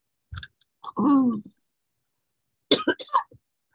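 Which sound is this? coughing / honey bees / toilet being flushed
coughing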